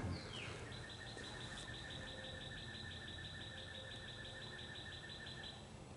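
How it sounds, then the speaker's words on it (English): Bright, repeated birds chirping carry steadily over a low Honda lawn mower engine rumble, with a fast trill running the whole time at moderate distance. "birds are still chirping"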